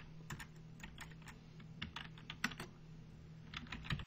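Typing on a computer keyboard with quick, light key clicks in irregular bursts, heard close and faint against a quiet hum, ending with a slightly firmer keystroke.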